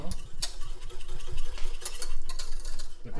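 Crème pâtissière custard being whisked in a bowl gives a continuous close, fast rhythmic scraping and clicking that runs for a few seconds without pause.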